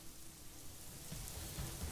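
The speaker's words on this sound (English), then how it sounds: "Now it's raining." Steady rainfall patters in a video game dungeon scene, a continuous soft hiss of drops with a low rumbling undertone, fairly faint and even, no voices.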